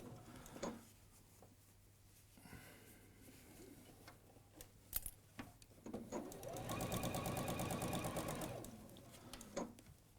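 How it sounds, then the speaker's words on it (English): A sewing machine stitching the inside yoke of a unisex shirt, with short bursts of rapid mechanical clatter and then a sustained faster run near the end, close by and without talk. "now we're sewing the inside yoke on the inside"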